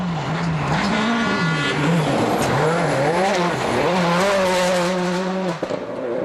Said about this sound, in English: Riola is one of the longest stages of the rally, and it's tough going for Loeb.